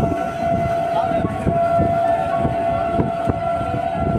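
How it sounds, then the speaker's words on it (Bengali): Steady interior rumble of a moving train on an Indian railway line in West Bengal, with a continuous tonal hum and rhythmic low thumps from the wheels and carriage, no talking. "ট্রেন থেকে কিন্তু বাইরের দৃশ্য দেখতে ব্যাপক সুন্দর লাগে।"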